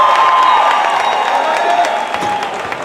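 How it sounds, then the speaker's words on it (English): Crowd applause and cheering at a high school basketball game honoring a volleyball Player of the Year, steady loud clapping with scattered whoops from a gym audience, fading slightly toward the end. "Another huge round of applause for the Player of the Year in volleyball"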